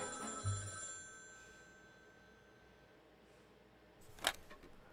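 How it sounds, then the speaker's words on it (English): A telephone bell rings in a short, sharp burst near the end, after a soft tonal hum and an earlier low thump, with a quiet background and no talking. "Calls from all around the world rang out."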